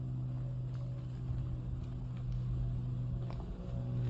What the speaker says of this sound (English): We got a vehicle moving in.